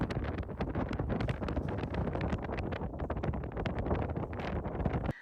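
Strong wind roars steadily into the microphone in Mongolia, a dense, continuous rumble with gusty fluctuations throughout and no voices.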